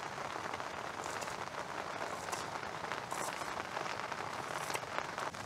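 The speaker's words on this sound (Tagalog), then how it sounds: "Palakas ng palakas po yung ulan." Heavy rain pours at a campsite in Natividad, Pangasinan, a dense, steady hiss of drops pattering on surfaces nearby with no break.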